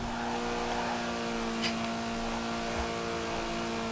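A maxed-out car engine in Forza Horizon 4 drones steadily at high revs near the redline with a constant, buzzy mechanical hum, with no talking.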